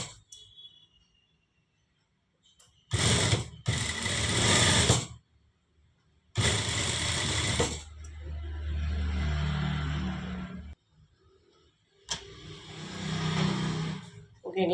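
An electric sewing machine stitches a blouse in three bursts of fast, buzzing whir with quiet gaps between them, while someone speaks Tamil nearby.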